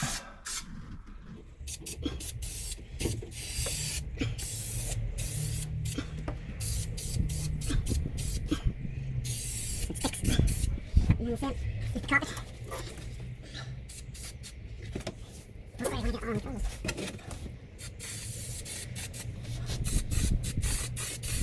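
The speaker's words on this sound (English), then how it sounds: "Spray the carpet." Spray bursts onto carpet during carpet lining work, short hissing and rubbing sounds coming in uneven bursts at close range, with occasional speech and handling noise.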